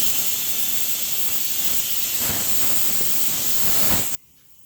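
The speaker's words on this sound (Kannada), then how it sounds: "ನಾನು ಕುಕ್ಕರಲ್ಲಿ ಅನ್ನಕ್ಕಿಟ್ಟಿದ್ದೆ ಅದು ಇದೇ ಸಮಯಕ್ಕೆ ವಿಸಿಲ್ ಬಂತು" A pressure cooker cooking rice lets off a loud, continuous steam whistle and hiss for about four seconds, which then cuts off abruptly into near silence.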